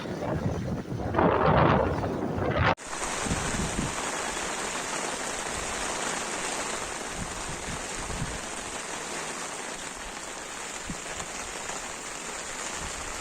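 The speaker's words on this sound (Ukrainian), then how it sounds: "Дочекалися дощу." Steady rain pours down across a fishing lake, a dense continuous hiss of drops on water and surfaces, loud and close, with wind buffeting the microphone in the first few seconds before the rain settles into an even wash.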